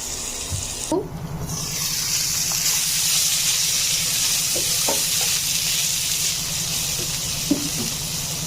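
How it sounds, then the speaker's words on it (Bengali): Vegetables for a shing fish curry fry in a pan with a steady, close sizzle, a few soft clinks and stirring taps over the hiss. "এখন আমি সবজিগুলোও একটু ভেজে নেব"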